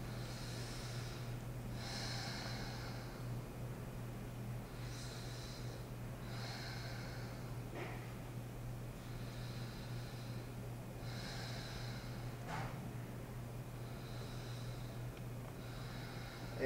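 Heavy, slow breaths during a low back and hamstring home exercise, about four drawn-out inhale-exhale pairs at a steady rhythm, close by over a constant low hum, with no talking.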